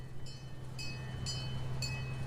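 A train ride at the Old Town Tucson Western attraction gives off a low, steady rolling hum with faint, regularly spaced clicks.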